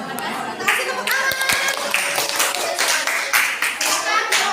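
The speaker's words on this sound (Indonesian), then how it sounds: "Kita kasih tepuk tangan." A classroom of students claps hands in uneven bursts, close and lively, with children's voices and light chatter mixed in.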